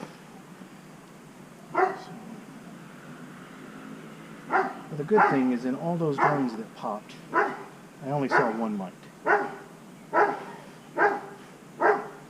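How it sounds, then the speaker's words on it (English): A dog barks repeatedly at another dog while staying with it at a rented holiday home, giving a series of loud nearby barks and yips that start sparse and then come in a steady rhythm, with a person talking over them. "that's my dog barking her head off at the Airbnb's dog"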